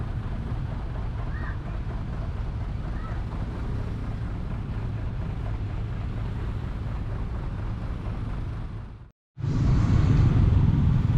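Motorcycle riding at night through a traffic jam dominated by large trucks on a coastal road in Indramayu, a steady loud engine and road rumble with wind buffeting throughout, briefly cutting out before returning louder.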